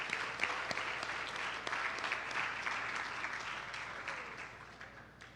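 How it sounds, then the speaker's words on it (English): Applause from a graduation ceremony audience honoring the class of 2021, steady dense clapping from a crowd that holds for several seconds and slowly tapers, heard at moderate distance with no talking. "Let's give them a round of applause."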